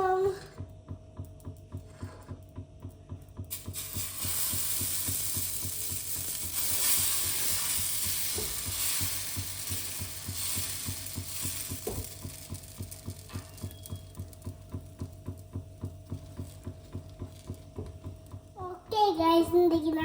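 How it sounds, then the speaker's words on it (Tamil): Dosa batter sizzles steadily on a hot pan, a continuous frying hiss with faint ticking and a low hum underneath, and a voice breaks in near the end. "ஓகே வாங்க நாங்கள் தோசை விடுவோம்."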